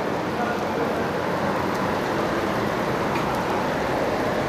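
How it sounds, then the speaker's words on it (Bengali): Steady rain falls, a continuous broadband hiss of drops at an even, moderate level throughout with no distinct individual impacts. "বৃষ্টি হইতেছে, হ্যাঁ, বৃষ্টি আবার আমার খুব ভালো লাগে"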